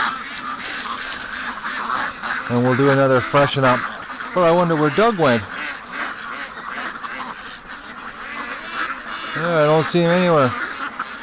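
Ducks quack in several short bursts of rapid, nasal calls, close and loud, breaking in between stretches of casual conversation from people nearby.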